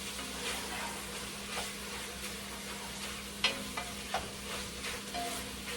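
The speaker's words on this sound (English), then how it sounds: "Give our meat a quick stir over here." Meat being stirred in a frying pan, a steady sizzle throughout with a few soft scrapes and taps of the utensil, close and continuous, no talking.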